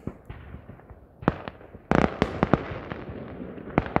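New Year fireworks burst in scattered sharp cracks and booms, sparse at first and then thickening into a denser crackling volley, moderately near and heard without talk.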